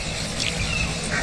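Barnacle geese call from a high perch out in the Nordic wild, a few honking cries carried over a steady rush of wind or water.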